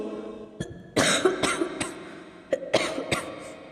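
A sick male professor seated at his desk coughs in several harsh, close bursts, with some throat-clearing between clusters.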